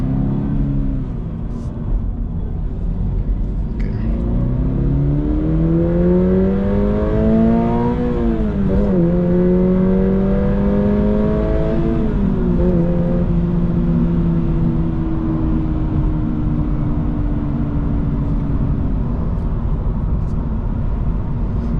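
A 2025 Toyota GR86 sports car engine revs up repeatedly through the gears, each rising pitch sweep dropping at a shift, loud and continuous from inside the car.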